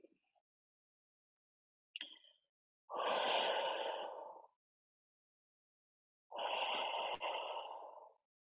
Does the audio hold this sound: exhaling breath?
yes